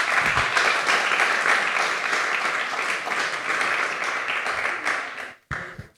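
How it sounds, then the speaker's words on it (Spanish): A church congregation applauds during a sermon on spiritual warfare, a loud, full burst of sustained clapping that carries on for about five seconds, then drops away abruptly with a short pause and a brief trailing flutter. "Para despertar al que está dormido podemos aplaudir a Jesús y entramos."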